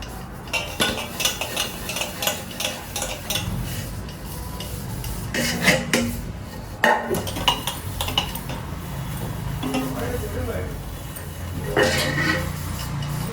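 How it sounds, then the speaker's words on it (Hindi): Kitchen utensils and pots being scrubbed and washed by hand: clinking metal, scraping and rubbing in irregular bursts, with occasional louder clatters, close by and without speech. "अपने कनाकता में भी मैं तो सारे रसोई के बर्तन मांझे"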